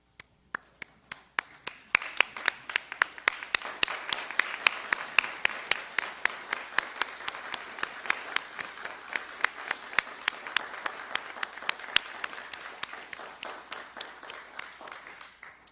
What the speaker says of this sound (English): giving a round of applause to the